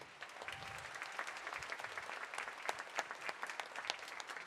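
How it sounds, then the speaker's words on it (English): Applause at a spring steel band concert rewards the soloists, a steady, fairly distant wash of many hands clapping with scattered sharper claps, fairly quiet overall. "let's keep that applause going for our soloists"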